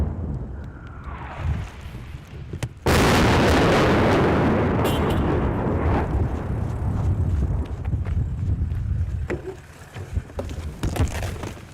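Artillery shell on the Donbas frontline: a faint descending whistle, then a sudden loud nearby blast whose roar and rumble linger for several seconds before fading into outdoor ambience.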